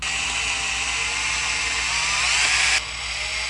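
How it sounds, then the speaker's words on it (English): A power drill whirs steadily at high speed for nearly three seconds, loud and close, driving a self-tapping screw into a 2000 Jeep Cherokee, then cuts off abruptly as the screw seats. "We're going to go ahead and drill in."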